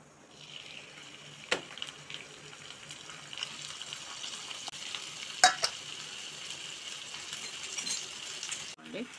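Onions, green chillies and spring onions frying in oil, a soft continuous sizzle at low level with a few sharp clinks and taps of a utensil against the pan.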